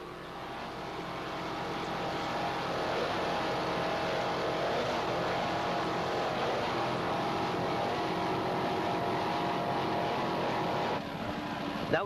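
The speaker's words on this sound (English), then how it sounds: "There's a 38-foot cigarette powered by two 700 horsepower inboard motors with Mercruiser drives." A steady, loud engine roar from a 38-foot Cigarette racing powerboat with two 700-horsepower inboard motors and Mercruiser drives drones throughout, dipping slightly near the end.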